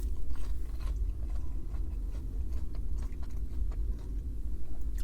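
Crispy McDonald's chicken nuggets being bitten and chewed up close, a steady run of soft crunches and mouth sounds over a low rumbling background, with no talking.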